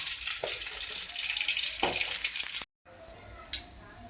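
Lays-crisp-coated chicken frying in a pan gives a steady close sizzling hiss with a couple of soft knocks. The sound cuts off abruptly, then a quieter tail follows with a brief clink.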